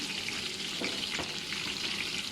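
Lamb pieces sear in a pot as the meat browns for a lamb tashreeb, giving a steady, close, broadband sizzle with a couple of brief stirring scrapes partway through and no talk.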